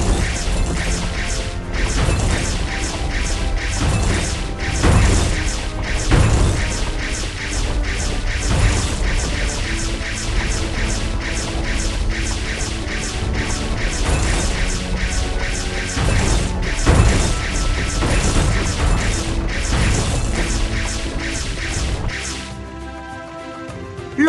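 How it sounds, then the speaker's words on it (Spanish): Rocks smash over and over in a Paw Patrol dinosaur rescue video game, loud rapid cracking hits with crystal-collecting chimes layered over busy game music, no talking. "Toca las rocas para destruirlas y recolectar sus cristales."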